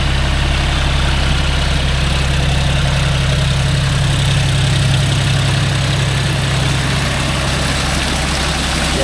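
A John Deere 5050D tractor engine runs with a rotavator fitted, a loud, steady low rumble that holds throughout without talk.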